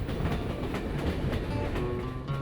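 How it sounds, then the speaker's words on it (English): Steady rumble of a passenger train rolling along the rails through lakeside wilderness, with a faint rhythmic clatter of wheels over track joints throughout. "We've got this train ride"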